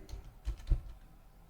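A few soft keystrokes on a computer keyboard, quiet and close, with two slightly louder taps in the middle of a short burst.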